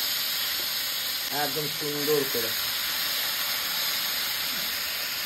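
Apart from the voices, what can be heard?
fish frying in hot oil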